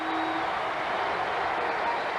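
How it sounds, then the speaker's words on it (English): Basketball arena crowd on their feet cheering at a college game, North Carolina at Kentucky: a steady, loud wash of roaring voices that fills the space, with a commentator's voice faintly underneath. "Crowd really into it."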